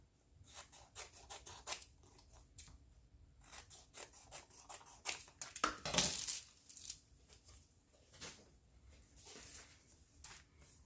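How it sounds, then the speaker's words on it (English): Scissors snipping through excess mesh stencil material, a quiet series of short, crisp cuts and rustles at close range, irregularly spaced with one louder crinkling burst midway. "I'm going to go ahead and trim off the excess before I put this onto my Cricut mat."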